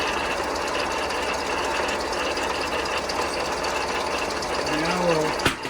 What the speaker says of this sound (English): The grinding wheel is going.